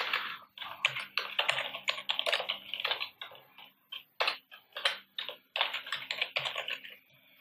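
Bursts of fast typing on a computer keyboard, close and clear, with short pauses between runs of keystrokes and no talking.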